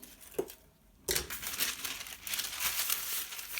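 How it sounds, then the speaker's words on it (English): Paper being crumpled and crinkled up close while wrapping fruit leather, a brief rustle, a short pause, then sustained loud crackling handling of the sheet. "Apologies for the noise of the paper there."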